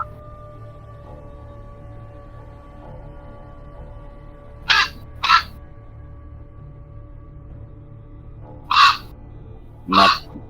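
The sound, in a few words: ravens cawing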